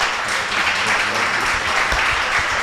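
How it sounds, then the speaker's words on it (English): An audience breaks into enthusiastic applause, dense overlapping clapping that fills the whole stretch loudly and evenly, with a few faint voices mixed in. "Let's give him a big round of applause."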